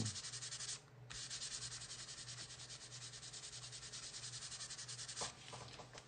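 Brown paper bag used as a very fine abrasive, rubbed over a green painted fall sign insert; steady close scrubbing strokes, continuous and rhythmic, with a short pause near the start.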